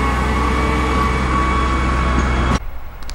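Train starting to move on a Japanese rail line, a loud steady low rumble and rolling noise close by that cuts off abruptly near the end.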